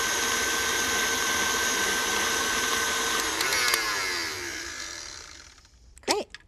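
A stand mixer's paddle beats buttercream with a steady, loud whirring motor drone that shifts pitch, then winds down and stops, followed by a couple of brief clinks.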